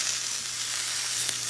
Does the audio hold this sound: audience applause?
no